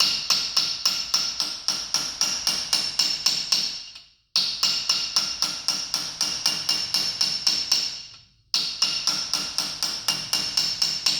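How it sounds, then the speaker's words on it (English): A hammer taps a camshaft timing gear onto an engine during a rebuild, fast metallic strikes in quick regular bursts, each ringing briefly, with two short pauses between runs and no talking. "my hammer's bouncing off instead of, because the gear's not moving anymore, so it's bouncing."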